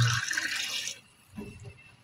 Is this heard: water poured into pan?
yes